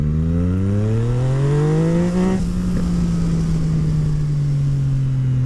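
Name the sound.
Yamaha MT-09 motorcycle with Akrapovic exhaust accelerating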